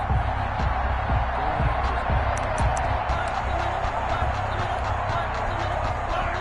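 A stadium crowd roars in an American football video game, Broncos against Chiefs, a steady loud wash of cheering with scattered thumps and a commentator speaking over it.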